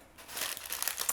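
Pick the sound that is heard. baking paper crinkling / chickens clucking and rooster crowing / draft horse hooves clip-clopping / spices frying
baking paper crinkling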